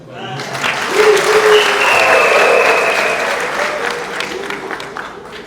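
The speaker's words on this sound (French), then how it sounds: "Je propose qu'on applaudisse encore." A large crowd claps loudly and steadily, swelling after a second and then slowly tapering off, with some voices and cheers mixed in.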